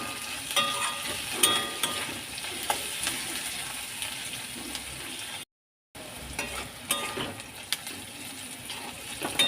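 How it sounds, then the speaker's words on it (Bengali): Potatoes, onions and chopped green chilli fry in a pan over low to medium flame for semolina upma, giving a soft steady sizzle with occasional stirring scrapes, fairly quiet and close, cut by one brief silent gap. "লো টু মিডিয়াম ফ্লেমে 5 মিনিট ভেজে নিয়েছি"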